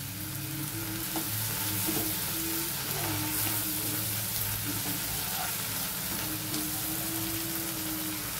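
Browned onion with cumin paste frying in oil in a pan, a dense, loud, unbroken sizzle close up with faint stirring throughout and no one talking.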